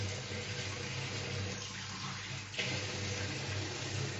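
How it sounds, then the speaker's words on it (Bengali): Water poured from a cup into a pressure cooker holding rice for a vegetarian pilau, a steady splashing stream, close and moderately quiet with no talking. "আমি দিচ্ছি এইখানে প্রেসার কুকারে দিচ্ছি বলে একটু কম লাগবে, 1 কাপ জল আর হাফ কাপ জল"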